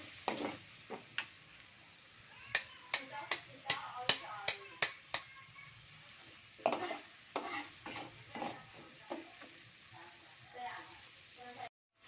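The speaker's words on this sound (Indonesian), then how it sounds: "kita masukin bumbu yang udah kita blender ya teman-teman." Blended spice paste sizzles softly in a pan over low heat while a utensil stirs, with a run of sharp taps and scrapes against the pan.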